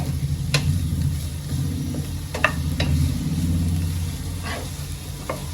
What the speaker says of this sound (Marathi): आता या सर्वांना मी दोन ते तीन मिनिटापर्यंत चांगलं तेलामध्ये फ्राय करून घेते